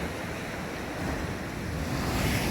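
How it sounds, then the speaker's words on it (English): Ocean waves wash and churn at night near a shore fishing spot, a steady broadband roar of surf mixed with wind buffeting the microphone, with no voices. "Just have a look at waves."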